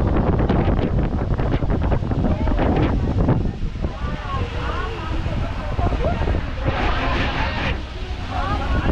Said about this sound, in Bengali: প্রচণ্ড বৃষ্টি নামলো